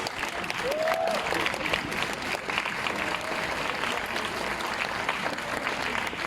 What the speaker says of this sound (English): Let's take one more round of applause for the dancers of As It Fades.